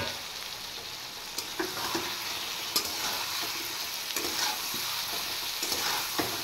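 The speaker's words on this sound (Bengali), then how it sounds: "এবার আমি ভেজে রাখা আলু পটল দিয়ে দেব।" Pre-fried potato and pointed gourd crackle in a pan of spice masala for a vegetarian dalna, a steady close sizzle dotted with sharp scraping taps of a spatula, with no voices.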